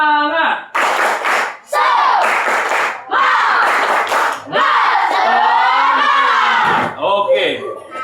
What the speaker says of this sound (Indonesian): Kurang kuat. Tepuk semangat.